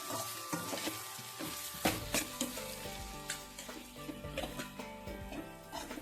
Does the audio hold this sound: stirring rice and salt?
yes